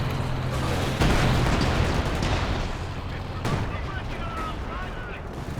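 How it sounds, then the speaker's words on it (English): Anti-tank Overwatch artillery fires during a Company of Heroes 2 battle: dense booming shots and heavy mechanical rumble roll on without a break, with a sharper blast about a second in and distant chatter mixed in. "Anti-tank Overwatch artillery also chipping in for quite a lot of damage"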